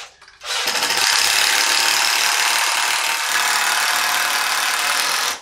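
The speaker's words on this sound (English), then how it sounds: "I'm going to screw it in place temporarily." A power tool runs steadily as it screws a part in place while building a homemade band saw mill, a loud continuous whir lasting several seconds with a few brief knocks underneath and no talking.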